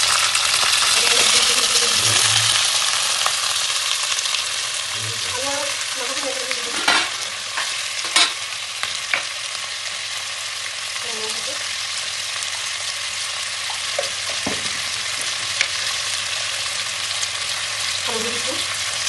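Chicken fries with onions in a pan, giving a continuous loud sizzle with intermittent stirring scrapes and clinks, and a few faint voices in the background.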